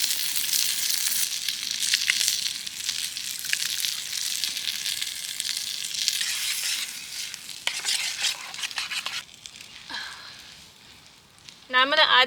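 Dijon mustard and tomato paste sizzle and crackle in a pan at a campsite, a steady bright hiss with scraping stirring, while a person speaks near the end.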